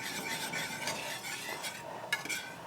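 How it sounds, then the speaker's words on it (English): Gravy being stirred in a pan for an off-grid Thanksgiving dinner, with a steady soft scraping and faint sizzle plus an occasional light clink of utensil on the pan. "And then we just stir this until it becomes the consistency of gravy the way we like it."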